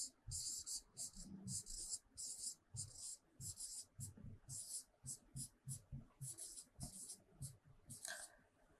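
Writing during a science lesson on photosynthesis, with quick repeated scratchy strokes in short bursts, fairly close, and faint low thumps between them.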